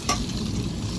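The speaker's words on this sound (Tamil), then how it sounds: "நல்லா ஒரு கிண்டு கிண்டிட்டு" Ridge gourd thokku is stirred in a hot pan, a scraping turn of the spoon over a steady, close sizzle of frying, with no voices.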